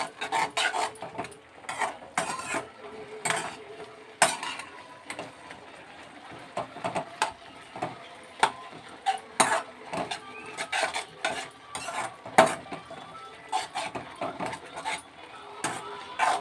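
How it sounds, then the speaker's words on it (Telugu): Gongura leaves cook in a pan while being stirred, heard as a close series of rhythmic scraping and rasping strokes of a utensil, repeating irregularly throughout over a quiet background. "మధ్యలో కలుపుకుంటూ ఇట్లా ఉడికించుకోవాలి"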